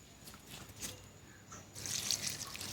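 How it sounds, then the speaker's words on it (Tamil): Fish-washing water trickling and pouring onto garden plants, a soft close dribble that swells into a fuller splashing pour near the end. "இந்த மாதிரி மீன் கழுவுன தண்ணியை ஊற்றி 2 வாரத்திலே செடிகள் புது துளிர்கள் விடும்"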